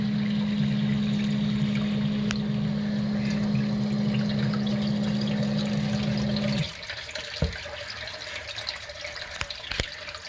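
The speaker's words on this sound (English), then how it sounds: "figured I'd get you guys a sump pump video here while I had a minute." A sump pump runs steadily in a pit during creek floodwater, a loud continuous hum for several seconds that cuts off abruptly, leaving quieter water trickling and a few clunks.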